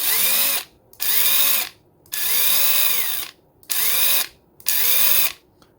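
Ryobi P263 brushed cordless impact wrench with new brushes breaking in, running in five loud, close bursts of whining motor hum, each about a second long and separated by short silences, with pitch rising as each burst spins up.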